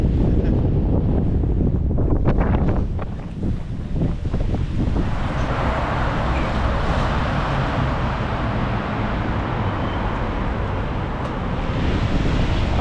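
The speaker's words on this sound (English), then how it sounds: "look at those waves right now" Rough ocean surf and strong wind on a beach in Barcelona under a red flag: heavy wind buffeting the microphone over continuous crashing waves, with no talking.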